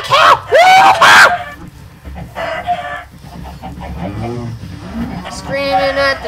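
Mooing from Minecraft cows rises amid clucking and crowing fowl sounds, with loud shouting voices near the start over a busy backdrop.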